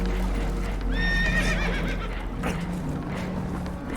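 Spooked horses whinny loudly in Red Dead Redemption 2, a rising, wavering neigh near the start over a steady low rumble of water and boat noise, then fading into background clatter.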